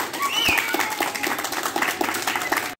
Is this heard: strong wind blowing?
no